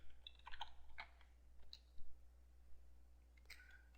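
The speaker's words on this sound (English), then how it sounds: "So I go back here and type in free." Computer keyboard typing in short irregular bursts of clicky keystrokes, faint and close, with a steady low hum underneath and pauses between clusters of keys.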